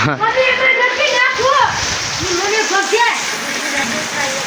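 Heavy village rain falling with a constant dense hiss and splashing, while adults and children talk and call out over it throughout.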